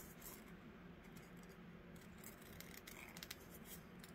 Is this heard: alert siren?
no